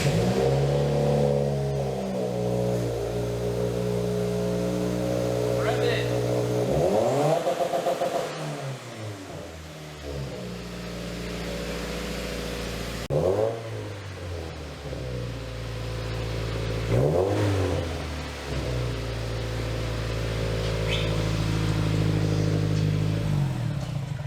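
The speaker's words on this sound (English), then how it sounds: "We're gonna get a quick start up with the car before we put everything else on" A Subaru WRX with a newly installed cat-back exhaust and J-pipe idles with a deep, steady burble, then gets blipped into several sharp revs that rise and fall, loud and close in a garage.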